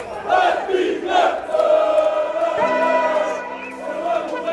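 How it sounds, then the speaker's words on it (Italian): Benfica supporters in the away end chanting together in a loud, sustained sung chorus at a Champions League away match, voices blending into a steady crowd melody. "cori sempre più forti"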